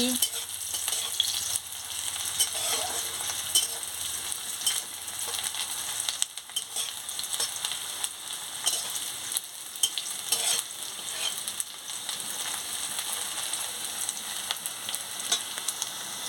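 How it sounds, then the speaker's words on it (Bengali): Onions sizzle in a pan, a continuous crackle with intermittent scraping as they are stirred. "পেঁয়াজটা ভালো করে ভেজে নিচ্ছি"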